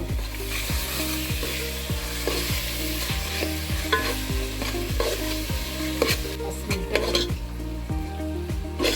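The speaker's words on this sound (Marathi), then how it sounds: "हे टाकायचं चांगलं परतून घ्यायचं" Agri-style chicken masala being stir-fried in a pot over a wood-fired stove: a steady sizzle runs throughout, with regular scraping strokes of a spoon against the pot, close and fairly loud, with no talking.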